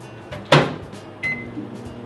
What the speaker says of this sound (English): stick it back in the microwave